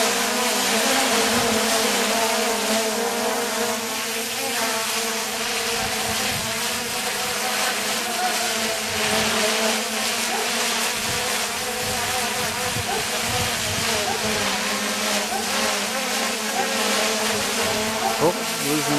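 A 3DR Solo quadcopter on Master Airscrew propellers, at half throttle in stabilized mode, hovers close by with a loud, steady, buzzing whine of motors and props whose pitch wavers slightly as it lifts and holds.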